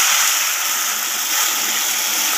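Water poured from above into a pan of egg omelette curry, a continuous bright rushing splash that stays loud and even throughout with no talking.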